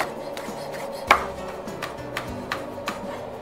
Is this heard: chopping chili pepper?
yes